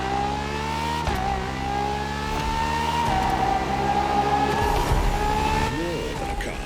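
The Ferrari FXX-K track-only racing car in the video game The Crew Motorfest, its engine holding a steady high whine that dips at gear changes, with some tyre scrubbing later on; constant and fairly loud.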